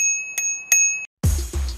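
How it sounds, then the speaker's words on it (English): Flick bell on an NIU KQi3 Max electric scooter rings twice in quick succession with bright, sustained tones, then a couple of low knocks and handling sounds follow. "And then on the left, there's a flick bell."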